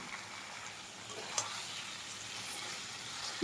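Chicken pieces fry with a ground spice paste in a pan for a chicken curry, giving a soft, steady sizzle with a brief sharper crackle midway and no talking.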